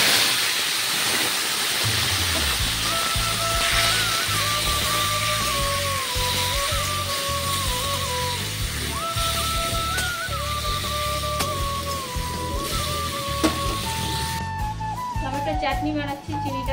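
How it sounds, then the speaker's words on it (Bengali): Tomato dropped into hot oil with chili and mustard seeds for a tomato chutney, a continuous loud sizzle and hiss running throughout, with tonal background sounds layered over it. "দেখো এখন এবার তেলের মধ্যে আমি টমেটোটাকে দিয়ে দেব।"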